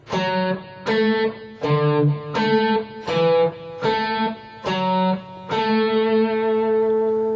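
An electric guitar plays a steady melodic Bach passage of distinct notes in even phrases, ending on a held note, with no talking.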